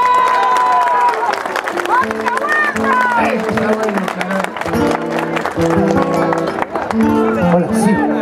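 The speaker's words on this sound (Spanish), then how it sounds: "un aplauso para la sociedad picantera" A festival crowd at a chicha celebration applauds for a local picantera society, the clapping mixed with loud music and voices talking and singing over it.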